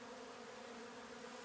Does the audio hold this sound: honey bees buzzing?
yes